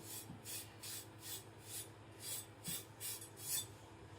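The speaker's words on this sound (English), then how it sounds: "just stropping the burr gently between each stone on my pants" A nakiri knife blade, thin white steel, is stroked gently against fabric pants to strop off the burr, giving a soft, rhythmic series of faint swishing rubs, about a dozen evenly paced strokes in a quiet room.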